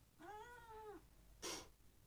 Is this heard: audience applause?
no